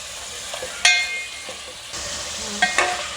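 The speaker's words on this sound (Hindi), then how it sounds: "ये देखें कि मैंने अदरक लहसुन के साथ इसको भून लिया।" Beef for balti gosht frying with ginger garlic paste in a pan, a spoon stirring through it with a few sharp scraping clinks over a soft steady sizzle, close and with no talking.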